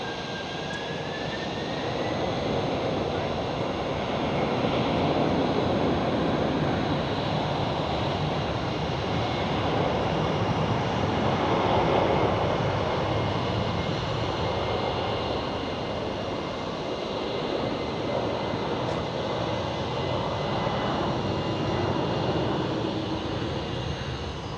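At Amsterdam Schiphol, an airliner takes off from runway 24 with a sustained, loud, broadband jet roar that swells slightly toward the middle and holds steady throughout, with no voices.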